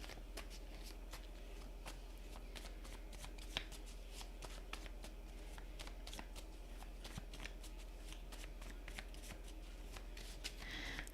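A deck of cards being shuffled for a card reading, a quiet run of quick papery riffles and flicks repeating steadily for several seconds, close and soft with no talk.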